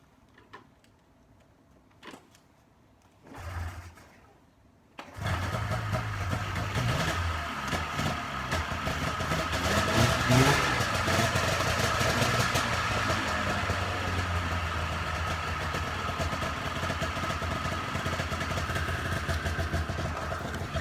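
After a few quiet clicks and a brief pull, an old snowmobile engine starts and idles steadily at around 2,000 RPM without choke, loud and close, with a raspy, buzzing drone.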